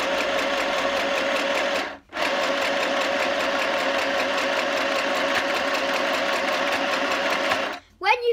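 Sewing machine stitching cushion fabric, a fast, even mechanical whir running close and loud, pausing briefly once before resuming, then stopping near the end.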